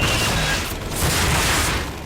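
A heavy, broad boom and rumbling blast from a handheld missile launcher in Call of Duty: Modern Warfare fills the moment, loud and sustained with a slight dip before swelling again.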